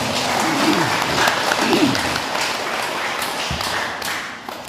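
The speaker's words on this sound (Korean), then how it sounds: "큰 박수 한번 보내주시기 바랍니다" An audience applauds throughout a speech at a Korean Buddhist temple gathering, the steady clapping loud and close with a voice speaking over it.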